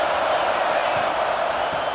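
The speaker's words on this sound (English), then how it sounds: "This crowd trying to make life miserable for this offense." A dense, steady roar from a stadium crowd in EA College Football 26 during a Florida–Auburn game, loud and continuous without any break.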